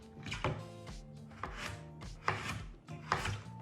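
A knife chops through a peeled rutabaga, halving the soft root vegetable on a board, with several firm, close thuds and scraping blade strokes spaced about a second apart.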